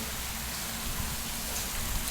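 Heavy monsoon rain pours down steadily over floodwater spreading across a flooded area of Ghotki, Pakistan, a dense, even hiss of downpour and rushing water with no pauses.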